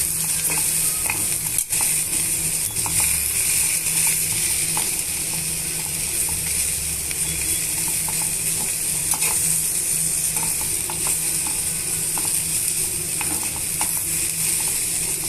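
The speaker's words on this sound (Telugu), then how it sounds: "ఇప్పుడు మనము ఇవన్నీ కూడా బాగా మిక్స్ చేస్తున్నామండి" Sliced okra fries in a pan as it is stirred, producing a loud, continuous sizzle with frequent scraping and shuffling strokes of the spoon throughout.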